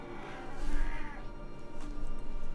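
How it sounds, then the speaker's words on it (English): An indoor pet cat gives a drawn-out, wavering meow in the background, followed about a second later by a shorter, fainter one. "I'm sure you can hear my kitty cat meowing behind me."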